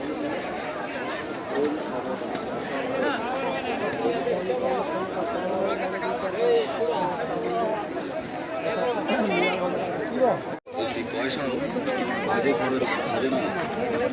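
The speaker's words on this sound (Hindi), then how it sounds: "पूरा जबरदस्त भीड़" Dense crowd chatter fills the Sakrat weekly market at Dhalbhumgarh, a steady, close babble of many voices with footsteps and movement, continuous throughout apart from one brief dropout near the end.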